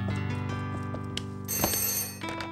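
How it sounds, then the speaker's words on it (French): A telephone bell rings in a children's story scene, a bright repeated electronic trill heard alone at close range for a couple of seconds, with a faint tonal background under it. "c'est papa qui téléphone pour savoir si tout va bien"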